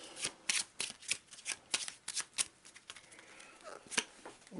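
Cards from Eldritch Horror board game decks being handled and counted, a quick run of crisp flicks and snaps close up, irregular in rhythm, with no talking over them.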